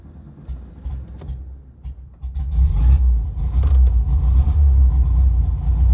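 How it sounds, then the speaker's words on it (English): A Volkswagen air-cooled four-cylinder engine in a 1981 Sbarro Baby Ferrari cranks briefly after quiet, then catches and settles into a loud, steady low rumbling idle close by. "that 4-cylinder Volkswagen runs beautifully, really. It has quite the sound to it."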